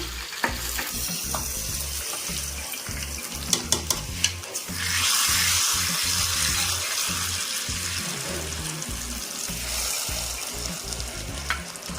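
Mustard seeds popping and spluttering in hot oil as a tempering for pongal sambar, a steady loud sizzle with scattered crackles and a stronger burst of frying midway, no voices.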